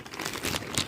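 A Ziploc plastic bag crinkles and rustles up close during a package unboxing, a run of quiet irregular crackles lasting about a second, with no speech.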